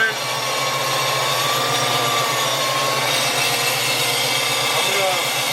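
Electric cooling fans running on a Coyote-swapped Fox body Mustang, a steady whirring drone heard up close, with a voice talking over it.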